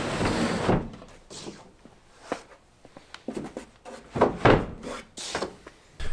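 Long plywood storage drawers, one about 72 inches and one around 50 to 60 inches, sliding over a plywood sheet in a truck camping platform, giving several close scraping and knocking bursts with short pauses between them.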